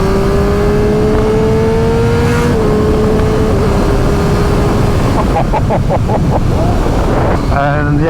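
A 2023/2024 KTM 765RS motorcycle with de-catted full exhaust, Spark headers and Akrapovic link pipe rides along, its engine droning steadily, then revving through sharp shifts under heavy wind rush at the microphone.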